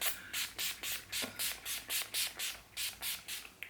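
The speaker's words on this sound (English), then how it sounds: "And I like to start off with a little bit of spray first." Rapid bursts of makeup setting spray hiss in quick succession, about a dozen short puffs in a steady rhythm, close and fairly loud.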